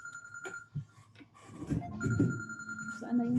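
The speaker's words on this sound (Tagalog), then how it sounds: "Saan na yung cellphone maingay?" A mobile phone ringtone sounds during a meeting, repeating electronic tones in two bursts, with murmuring voices and room noise underneath.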